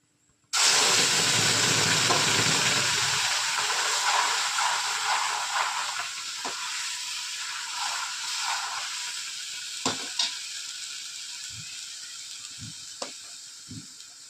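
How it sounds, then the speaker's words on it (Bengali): Lentils (dal) tipped into hot oil with tempered garlic erupt in a sudden loud, steady sizzle and hiss. The sizzle slowly settles over several seconds, with a few light clinks of a utensil near the end. "রসুনটা সম্বার হয়ে গেছে, এবার ডালটা দিয়ে দিচ্ছি।"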